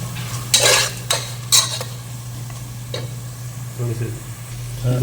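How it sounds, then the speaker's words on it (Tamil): Chickpeas (chana) heating in a pan with a little ground pepper, giving a low steady sizzle under a constant hum, with several sharp clinks of a spoon stirring against the pan. "இங்கே சன்னா வந்து சூடாகிட்டுருக்கு."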